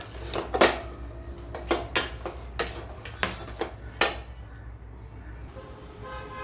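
Onion, green chilli, pepper and curry leaves mixed in a bowl for medhu vadai batter, heard as a series of clattering clinks and knocks of utensil against the bowl, close and moderately loud, trailing off near the end.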